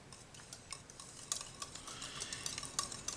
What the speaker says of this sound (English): mix this up real well